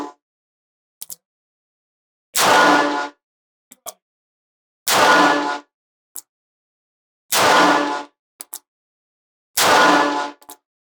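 Four loud gunshots from a Heritage Roscoe revolver, fired at target practice, come as sharp separate cracks about two and a half seconds apart, each with a short echo and faint mechanical clicks in between.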